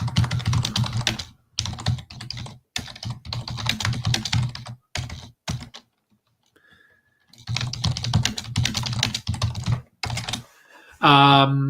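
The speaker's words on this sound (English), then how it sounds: "As I type." Rapid typing on a computer keyboard in bursts of close, clicky keystrokes, broken by short pauses and a longer silent gap, with a brief electronic tone at the end.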